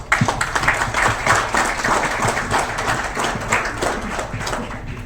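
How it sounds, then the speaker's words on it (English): An audience at an e-commerce panel event applauds its speakers, a dense, continuous round of clapping that begins sharply and gradually eases off. "Let's give our speakers a round of applause"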